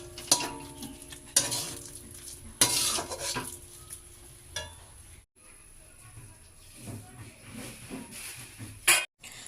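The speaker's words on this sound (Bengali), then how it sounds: "তো এইভাবে আমি নাড়াচাড়া করে থাকবো" A spoon scrapes and stirs cooked taro leaves in a pan, sounding as repeated metallic scrapes and soft rustling strokes with brief pauses between bursts.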